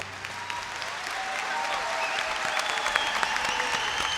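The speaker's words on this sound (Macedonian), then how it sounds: "Вашиот аплауз зборува све." Audience applause at a folk dance ensemble's annual concert, a dense sustained clapping from a large crowd in a hall that grows steadily louder and fills the whole span.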